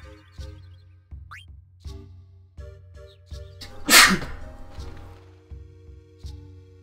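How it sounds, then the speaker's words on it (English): A single loud sneeze bursts out midway over a backdrop of repeating game music with regular rhythmic thumps, during a Final Fantasy IX play session. "I need to sneeze."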